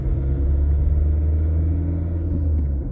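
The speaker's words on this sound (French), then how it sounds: "c'est sûr, c'est un moteur diesel, donc tu l'entends" A Fiat Sedici's diesel engine pulls hard at full throttle, a loud, deep rumbling drone that holds steady and slowly rises in pitch, heard from inside the car.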